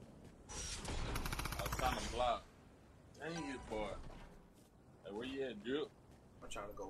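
A burst of rapid automatic gunfire rings out in a video game shooter, then voices talk over quieter game sounds.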